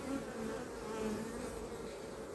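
Honeybees, workers and drones, swarm over a hive frame in a dense, steady buzzing drone, close and continuous with no voices.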